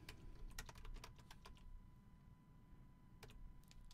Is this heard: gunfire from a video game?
no